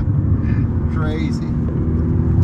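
A powerful electric car accelerating hard on a canyon road, a steady loud low rumble and road roar throughout, with someone speaking over it.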